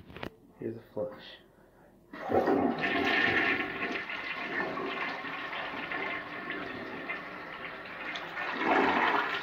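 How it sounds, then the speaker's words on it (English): A 1973 Orion toilet flushes with a loud, rushing gurgle of water that continues for several seconds, preceded by a few brief clicks and handling noises; a person speaks faintly nearby. "Here's a flush."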